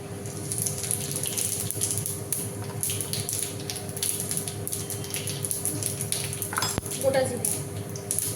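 Whole cumin is stirred into hot oil with bay leaf, dried red chilli and whole spices for a tempering in a pan. A steady frying sizzle runs throughout, with clinks of a utensil against the pan and a faint voice in the background.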